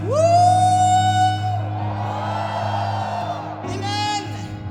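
A crowd shouts a long, rising "woo" together at a Filipino religious gathering, holding it loudly before it fades into a noisy roar, then another brief cheer swells at the end.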